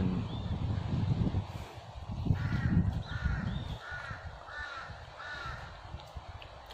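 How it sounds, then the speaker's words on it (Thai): Several crows caw in a repeated series of harsh calls from a distance, over a low rumble of outdoor background noise, in a pine forest near a beach on Koh Kho Khao, Phang Nga, Thailand. "มีเสียงนกเสียงกาด้วย"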